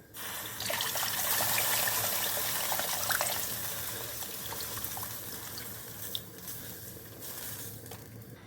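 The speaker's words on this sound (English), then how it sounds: "I'm adding some more water to take the second extract of the thick tamarind pulp." Water pours into thick tamarind pulp while sambar is being made, a close, continuous splashing trickle that starts strong and then gradually softens toward the end.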